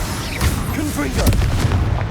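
A Confringo fire spell explodes in Hogwarts Legacy, giving a booming, crackling blast with a burst of energy, set against steady game background noise.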